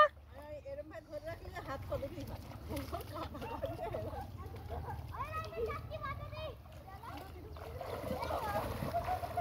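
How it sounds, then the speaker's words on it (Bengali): Water splashing in a pond as a child learns to swim, heard as light, scattered splashes under steady talk from adults and children nearby. "দেখুন সাঁতার কাটা শিখছে আমার বাবাই"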